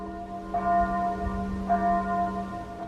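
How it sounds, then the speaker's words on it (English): The church bell on Bled Island in Slovenia tolls twice across Lake Bled, each clear ringing strike leaving a long humming decay, heard from a distance over a low steady background. "You can hear the bell of the church or the cathedral over on Bled Island."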